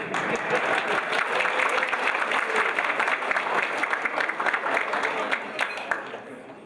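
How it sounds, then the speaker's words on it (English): Audience applause at a dinner during a DeMolay officer installation, a dense steady round of clapping from a full room that holds for several seconds before tapering slightly, with a few voices mixed in. "Yes, you can clap for that, Matthew."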